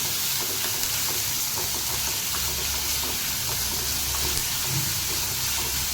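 Onions fry in a pan as the base for a prawn gravy, giving off a continuous close hiss and sizzle with faint scraping from stirring. The sound stays steady throughout with no talk over it.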